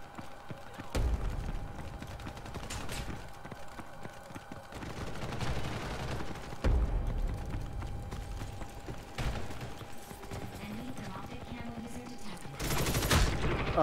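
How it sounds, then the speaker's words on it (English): Rapid bursts of gunfire from a heavily modified gun in a video game, with sharp volleys of shots repeating across the stretch over a steady mechanical hum. "I'll use my extremely modified gun"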